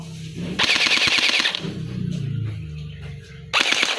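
A TY MCX gel blaster toy gun fires full auto with blowback, giving a loud rapid rattle of shots in two close bursts separated by quieter mechanical handling.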